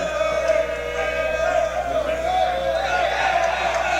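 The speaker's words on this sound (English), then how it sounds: "A stunned Reinhardt Eagle crowd." A college baseball crowd at Reinhardt University in Waleska murmurs and calls out in a steady, fairly loud wash, with an announcer's voice over it and a constant tonal hum.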